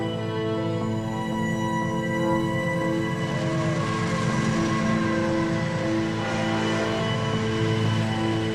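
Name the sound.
train running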